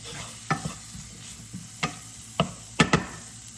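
Vegetables cooking in butter in a pan sizzle steadily, punctuated by several sharp spatula scrapes and taps as they are stirred, close and moderately loud with no talking.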